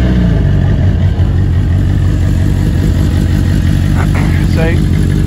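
Empire Evo race car engine with a handmade exhaust and Yoshimura R77 silencer, turning over and settling into a steady, loud idle that runs continuously, with a few brief voice-like tones near the end.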